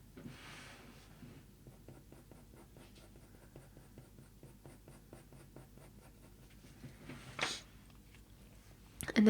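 A colored pencil draws short fur strokes on paper for a leopard eye, a quick regular series of soft scratchy strokes, close and quiet, with a louder rustle near the end.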